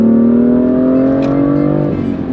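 BMW M2 engine hums loudly from inside the car as it drives, a steady tonal drone that shifts pitch slightly as speed changes, close and continuous without talking.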